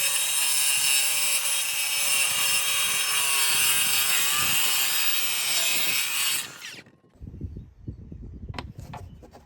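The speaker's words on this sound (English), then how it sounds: "With cutting 90-degree corners, I used a circular saw with a masonry blade." A circular saw fitted with a masonry blade cuts 90-degree corners on a stone veneer panel for a fireplace wall, a loud continuous grinding whine for about six seconds that stops abruptly, followed by quieter scraping and handling noises.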